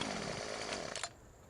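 A chainsaw in the video game Farming Simulator 17 drones loudly and steadily with a harsh buzzing rasp, then cuts off abruptly and gives one short burst near the end.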